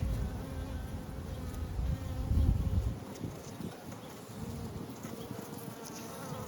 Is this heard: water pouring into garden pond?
no